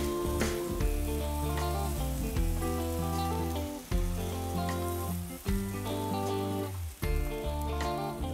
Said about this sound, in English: When your peaches release from the grill, then you know you can pull them off